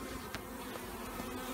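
Honey bees buzzing in a dense, steady drone at a hive in Australian heat, the colony bearding outside the entrance, with occasional individual bees flying close past.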